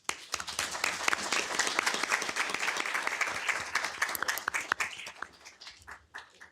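Audience applause at a city council meeting, a dense burst of many hands clapping that swells, holds steady, then thins out into scattered claps and fades.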